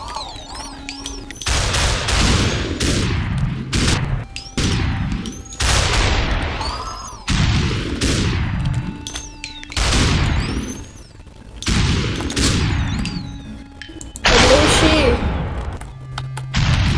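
Bursts of gunfire from the video game SUPERHOT, loud, close and repeated in sharp clusters with short gaps, while a voice talks between and over the shots.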